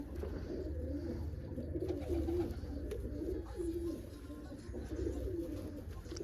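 Pigeons, including gur-coloured birds kept in a loft box, coo softly and repeatedly at a distance over a steady low background rumble.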